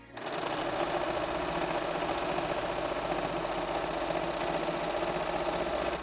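A sewing machine top stitching a milkmaid dress runs in one steady, continuous stretch of fast, even whirring. It stays close and fairly loud from start to finish, with no voices over it.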